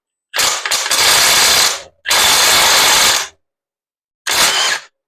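A ratchet spins in three loud bursts of rapid clicking while loosening the bottom bracket of a cheap Walmart bicycle crankset, with short pauses between bursts and no voices.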